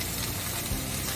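Bologna fries in a pan, a steady close hiss of sizzling fat with a brief soft stir near the end and no talk.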